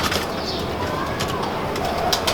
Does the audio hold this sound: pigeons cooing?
yes